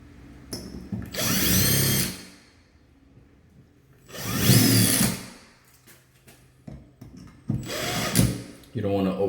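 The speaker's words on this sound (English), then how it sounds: "you don't want to over tighten these, especially with a drill." Power drill driving screws into a Moen single-handle shower valve: three whirring bursts of about one to two seconds each, close and loud, separated by quieter handling noises.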